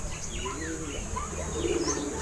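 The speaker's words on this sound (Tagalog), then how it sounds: "Ayun yung ibang ibon natin." Pigeons being trained for homing toss, cooing and chirping softly and steadily over a low background hum, with faint bird calls scattered throughout.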